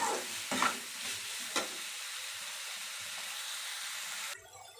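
Turkey berries and amaranth stems sauté for chutney in a pan, with a steady sizzle and a few sharp scraping stirs early on, before the frying hiss cuts off abruptly near the end.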